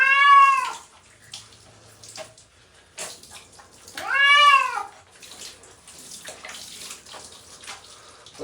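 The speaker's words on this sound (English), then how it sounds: "Look at all that water running clean off you now, though." A cat being bathed gives two loud, drawn-out meows, one at the start and one midway, over running tap water, with quieter splashing and handling noises between the cries.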